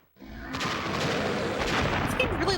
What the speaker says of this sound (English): And of course, just tons of explosions.